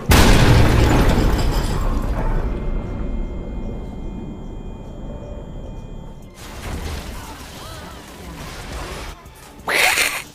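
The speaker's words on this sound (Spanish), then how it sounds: "¡Una granada!" A grenade explodes in a video game with a loud, close boom that rolls off over a couple of seconds, followed by quieter in-game rumbling and a short burst of noise near the end.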